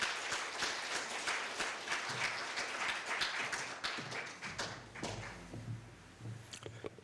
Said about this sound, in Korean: 네, 큰 박수로 맞이해 주시기 바랍니다.